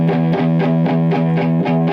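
Electric guitar on the neck pickup through an Aleks K Hot Ice Sweet Distortion pedal, strummed in a steady rhythm of repeated, thick, sustained chords, loud and close with no talk.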